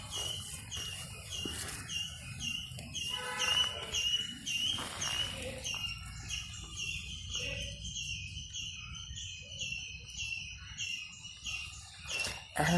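Birds calling and chirping in a garden in Goa, a mix of repeated tweets and trills over faint insect buzz, moderately distant and fairly quiet, with no one talking.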